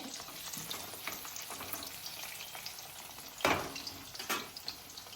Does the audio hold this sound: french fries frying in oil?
yes